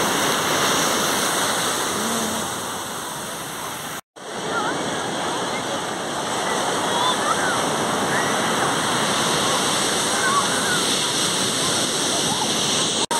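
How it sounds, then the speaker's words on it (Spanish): Rip-current water churns at Arpoador beach in Ipanema, Rio de Janeiro, with a constant loud rush of surf and wash, broken by one brief dropout. "estas son las famosas corrientes de retorno"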